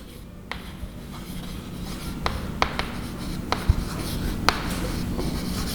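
Chalk or marker strokes scratch across a board during a chemistry class, a run of soft rubbing strokes broken by sharp taps and dots, continuous over a faint room background with no talk.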